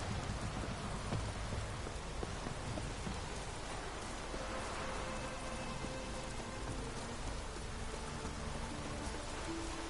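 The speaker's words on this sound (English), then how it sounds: "Looks like rain." Steady rain falls throughout in the video game The Witcher 3, a dense hiss of drops on surfaces with a few faint tonal sounds drifting in the background.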